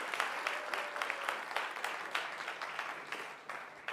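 Applause from an audience at a university graduate research talk competition, a moderate, steady patter of many hands clapping for about four seconds, slowly thinning toward the end, with no voices.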